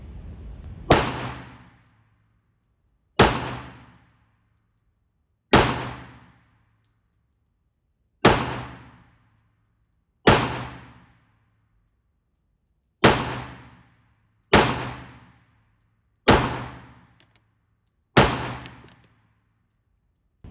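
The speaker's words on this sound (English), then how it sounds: "Right now I'm just going to put 10 rounds down range" Ten pistol shots ring out one at a time at an outdoor range, each a sharp loud crack with a decaying tail, spaced roughly two seconds apart.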